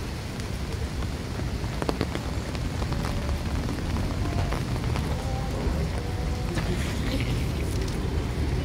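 Heavy rain pours steadily in flooding weather, a close, dense hiss with clear drops pattering on nearby surfaces. It runs continuously without pause, and no one talks.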